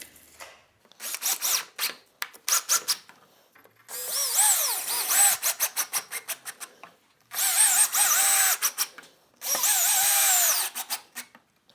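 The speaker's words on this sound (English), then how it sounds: "So I'm going to put a screw into these," A power drill driving screws to fix steam-bent wood in a stagecoach body frame, in a coach shop; repeated short whirring bursts, then several longer loud runs as screws seat, with brief pauses between.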